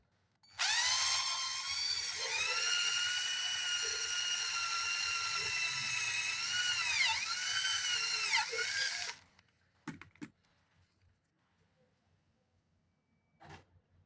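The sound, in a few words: cordless drill drilling a hole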